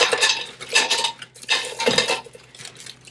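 Tomatoes and other vegetables for broth tumble into a metal pot in several clattering bursts, close and sharp, with no talk.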